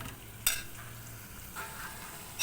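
Prawns cooking in a pan are stirred, with a soft steady sizzle under a few sharp scrapes of the spoon, and the whole sound stays quiet and close.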